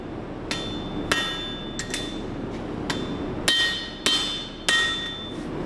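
A hammer strikes hot steel on an anvil while forging a knife, about eight sharp ringing blows at an uneven pace, clear and close with no talk.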